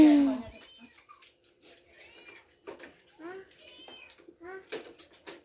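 A cat meows repeatedly in short, rising calls spread across several seconds, with a voice and other talk mixed in nearby in a home kitchen setting.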